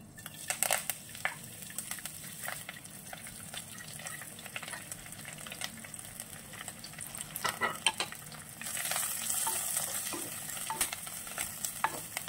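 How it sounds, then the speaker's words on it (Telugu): Coriander leaves frying in oil on a stove for a tomato chutney give a steady crackling sizzle with scraping stirs and clicks, growing louder and denser toward the end, close by with no talk. "ఫ్రై చేసుకుందాం కొత్తిమీర"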